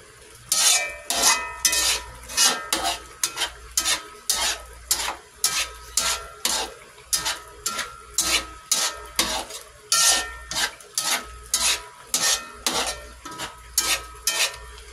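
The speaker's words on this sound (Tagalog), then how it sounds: "Haluin lang natin guys hanggang sa maluto po ang ating alamang." Shrimp paste (bagoong alamang) being stirred as it cooks in a pan: a spatula scrapes and clacks against the metal in a steady repeated rhythm, about two strokes per second, over a light sizzle, with no talking.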